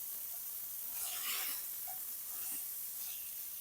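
Pork picanha on the grill gives off a faint, steady sizzle and hiss as the meat browns, with soft crackles rising and falling and no talking.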